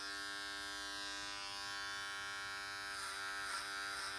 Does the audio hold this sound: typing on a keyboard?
no